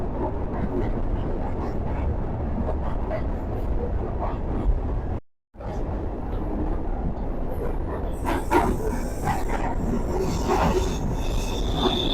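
A Kolkata local train running on the rails between Majherhat and Bagbazar gives a continuous heavy rumble with rattling wheel clatter, a brief dropout partway through, and muffled voices beneath.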